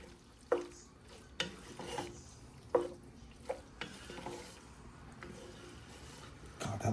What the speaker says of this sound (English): Just mix this all together.